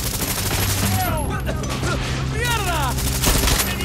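Gunfire in the Far Cry 6 video game: a sustained close fusillade of shots continues throughout, with whistling ricochet or incoming sounds layered on top of the din.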